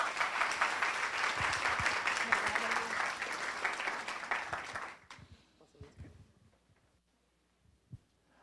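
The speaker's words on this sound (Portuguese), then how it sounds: "Uma salva de palmas para ele, por favor" Audience applause welcoming Luiz to the stage for a talk on artificial intelligence in nutrition, dense steady clapping for about five seconds before trailing off into a few scattered claps and quiet.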